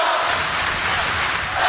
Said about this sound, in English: Crowd coming into this game now